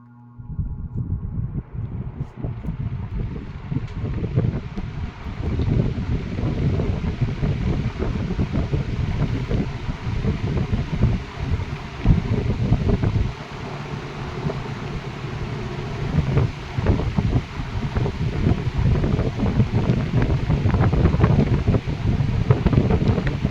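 A 1958 Sears Homart push-button window fan runs in exhaust mode on low speed, a steady, close whooshing drone of air and motor that swells up over the first couple of seconds and then holds even throughout.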